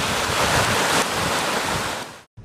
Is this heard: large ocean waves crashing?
yes